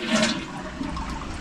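A toilet tank refilling with water, a steady close rushing hiss of running water that starts with a slightly stronger surge and then holds an even level.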